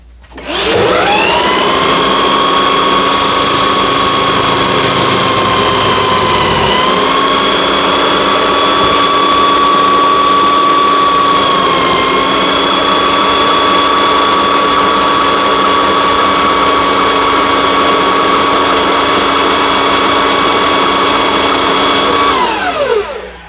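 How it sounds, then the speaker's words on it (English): A power sander works steadily across wood for a homemade bench vise, a loud continuous high-pitched whine with a brief dip in pitch near the middle, running alone for about twenty seconds before spinning down. "What I'm going to probably do is sand that portion"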